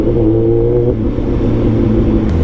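A Kawasaki ZX14R liter-class superbike engine hums at a steady, loud idle-to-rev, a deep continuous rumble up close with a brief throttle blip near the start.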